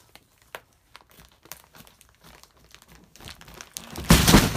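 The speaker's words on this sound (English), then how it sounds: "I'm getting ready to cut the final piece of plastic" Plastic wrap is cut off a Zinus 8-inch compressed spring mattress, with sparse faint crinkles and snips building to a loud rushing crinkle and thump as the mattress springs open at the end.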